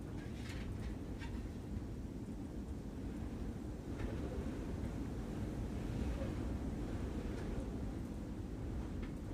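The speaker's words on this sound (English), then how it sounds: "it is very windy out there" Strong wind buffets an outdoor microphone on a windy Sunday night, a steady low roar with broadband rumble throughout and no voices.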